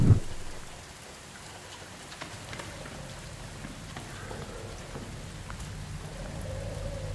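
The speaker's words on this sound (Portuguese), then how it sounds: "a chuva, a chuva perto e longe, bonito" Steady video game rain in DARQ pours down, heavy and continuous, with a soft rumble of storm beneath the wash of falling drops.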